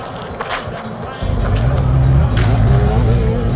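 A car drives up and its engine grows to a loud, steady hum that holds to the end, following quieter background sounds, with faint voices at the start.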